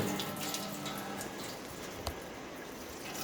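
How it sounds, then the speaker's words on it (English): In a fluid mechanics lab, a pump motor runs while water flows over a V-notch channel, giving a steady, even wash of noise from start to finish, with one brief knock partway through and no talk. "Switch on the motor and allow the water to flow over the channel"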